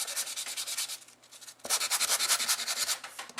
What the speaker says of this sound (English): And then to use the sanding block,